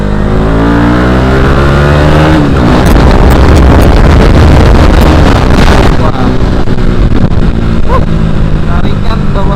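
A KTM RC250 single-cylinder sport motorcycle pulls hard with its engine revving up through the gears, loud and close, under heavy wind rush, with a rider talking over it.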